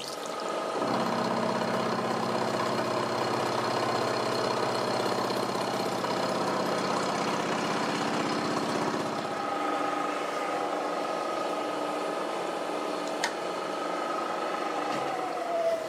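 A milling machine cuts the bodies of pivot blocks for a 300mm sine or tilting table while coolant flows from a nozzle on the coolant line. A steady close whirr with spraying hiss runs throughout, its low hum dropping off about two-thirds through.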